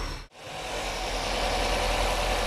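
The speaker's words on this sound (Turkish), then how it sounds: "Şimdi çalışması normal rolantede." Close, steady idle of a carbureted Tofaş Şahin car engine, a continuous even rumble that dips briefly near the start and then holds constant.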